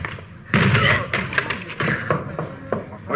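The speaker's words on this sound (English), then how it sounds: "Door's locked. Let's hit it." Police officers forcing open a locked door in an old radio crime drama: a sudden heavy thud followed by a run of banging, splintering impacts over about three seconds, close and loud.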